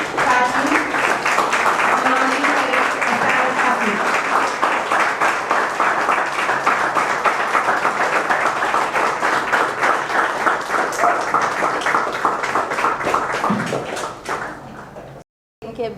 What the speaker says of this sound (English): give a wonderful round of applause for Baba Imhotep